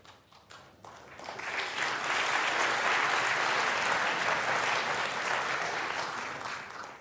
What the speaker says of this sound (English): It's a sort of muted applause, isn't it?